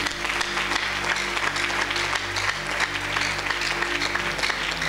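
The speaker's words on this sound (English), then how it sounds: "Give him a clap of praise." A church congregation claps in praise at the close of a sermon service, a loud, full and continuous wash of applause from many hands with a low hum of voices beneath.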